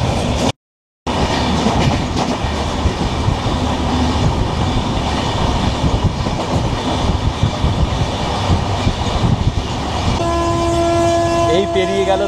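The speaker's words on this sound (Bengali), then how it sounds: "এই পেরিয়ে গেল দার্জিলিং মেল" The Darjeeling Mail rushes past on the opposite track, a loud continuous roar of wheels and rattling wagons close by, with a sustained horn blast near the end.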